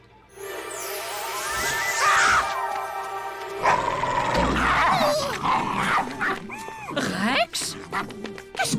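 A dog named Rex growls and barks in a lively, uneven run of sounds, close and loud, mixed with other cartoonish noises and voices.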